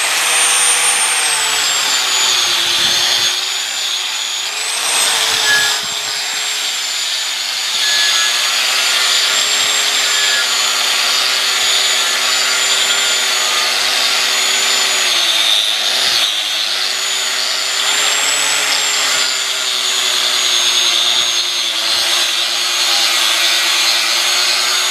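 An angle grinder whines continuously against metal while cleaning rust off a garage gate, a loud high-pitched grinding with slight dips in pitch as pressure shifts, close and steady.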